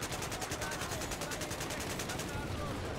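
Rapid automatic gunfire in a Battlefield 4 multiplayer match, a dense stream of evenly spaced shots running steadily throughout, with a voice talking underneath.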